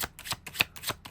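Tarot cards are shuffled and drawn by hand, giving four close, crisp papery riffling bursts in an even rhythm with quiet gaps between them.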